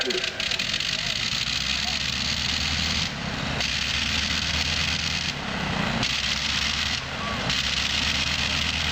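An 80 horsepower Le Rhône rotary engine on a Caudron aircraft runs loud and steady close by, its roar dropping briefly in several places as the ignition is cut on and off.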